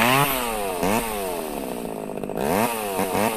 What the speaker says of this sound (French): il a percé des trous dans les murs avec une tronçonneuse